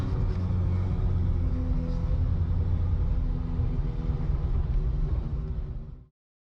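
A Toyota SR5 pickup truck drives along with a steady, loud low rumble from the engine and road, heard from close by, holding constant before cutting off abruptly at the end.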